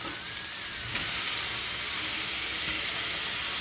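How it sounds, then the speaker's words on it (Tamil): Onions and tomatoes sauté in a hot pan for a cabbage and chickpea kurma, giving a steady, close, continuous sizzle and hiss with no talk. "கொஞ்சம் வெங்காயம் நல்லா வதங்கி வச்சு தக்காளி வச்சுருக்கேன்"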